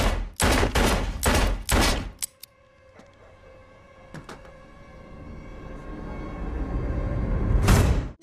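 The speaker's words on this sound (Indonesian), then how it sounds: "ia pun langsung mengambil pistol untuk menembak Lucas" A pistol fires in a film scene, four or five loud sharp shots in quick succession, followed by quieter metallic clicks and a rising rumble before a final burst.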